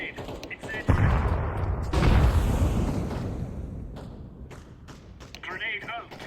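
Grenade and incendiary explosions in the game Counter-Strike 2, with heavy booms and a long rumbling burst, scattered gunfire and clicks, and voices speaking over the action.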